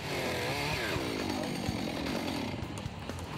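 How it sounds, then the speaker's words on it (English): A powered drill whines loudly and continuously as it bites into a wooden fence post at a New Zealand rural games contest, pitch dipping under load, heard up close with no talking. "drilling the final post"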